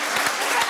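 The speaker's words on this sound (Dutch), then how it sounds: "Applaus genoeg!" Audience in a television studio applauding, a dense wash of clapping heard close and steady through the short moment, with a voice speaking over it.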